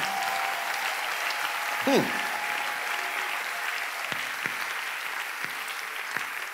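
A church congregation applauds steadily, with a dense wash of clapping from a large crowd indoors and a brief cheer rising near the middle, all continuing throughout.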